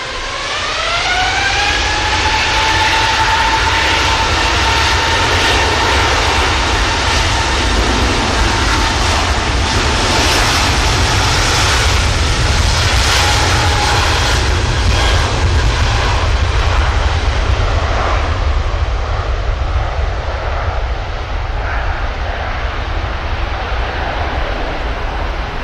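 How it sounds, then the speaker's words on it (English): Virgin Atlantic A350 jet engines at Manchester Airport roar loudly and continuously, a rising turbine whine sweeping up over a heavy rumbling drone that persists throughout. "got Virgin Atlantic A350 as well, pushing back the gents for Orlando"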